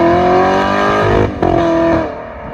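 A V6 or V8 car engine revs loudly and steadily up close, a strained harmonic drone that briefly dips before surging again and fading.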